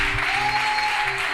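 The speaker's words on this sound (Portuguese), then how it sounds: "As palmas louvam o Senhor nessa noite" A church congregation at an evening praise and worship service applauding, dense steady clapping from many hands filling the room, loud and continuous, with a sustained tone from music or amplification underneath.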